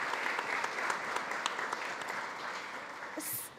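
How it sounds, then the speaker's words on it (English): Audience at a food access summit panel applauding, a dense, steady round of clapping from a sizable crowd sustained throughout and tapering slightly at the end. "Please give Rachel a round of applause."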